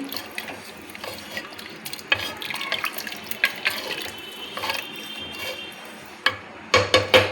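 Water poured into a cooking pot while making mushroom biryani, a gurgling, splashing pour in uneven bursts with clinks of a vessel, fairly quiet and close, ending in a few louder splashes.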